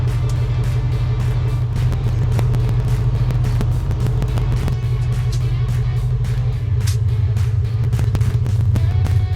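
A 2006 Chevrolet Monte Carlo SS, driven for the first time after sitting for about four years, rumbles steadily close up with a deep, constant engine drone and scattered knocks and rattles, with no talking.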